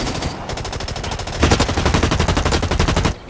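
Rapid automatic gunfire in the shooter game Blacklight, a continuous burst of evenly spaced shots lasting about three seconds, loud and close, growing heavier halfway through before cutting off abruptly, with no talking over it.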